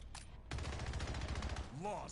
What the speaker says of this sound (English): Oh, he's using an SMG.